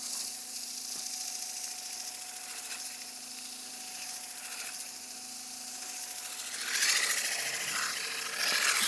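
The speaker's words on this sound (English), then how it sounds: "Soften the corner on the top edge, a little bit on the back when I sanded it, just to make it a bit smoother" Sandpaper being rubbed along the edges of a wooden cheese serving board, rounding the top corner; steady close scratchy rasping that carries on throughout and grows briefly louder near the end.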